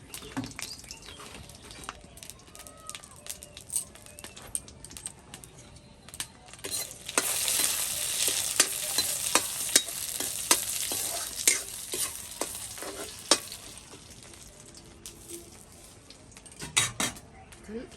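A five-spice tempering sizzles in hot oil while mango dal is cooked; the hiss swells loudly partway through, with scattered clinks and scrapes of a stirring utensil and occasional faint talk.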